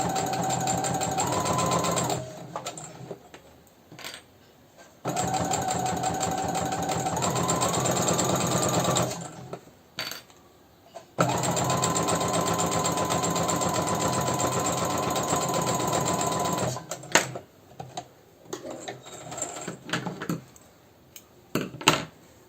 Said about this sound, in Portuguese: Um pontinho reto, de fora a fora, nessa parte maior do nosso molde. Dá um retrocesso e vamos.